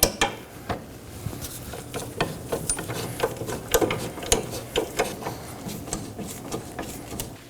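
A socket ratchet tightening bolts on the rear wheel knuckle of a 2018-2024 Chevrolet Equinox gives repeated quick clicking and ratcheting, with brief clanks of tools against metal, close-up and fairly quiet.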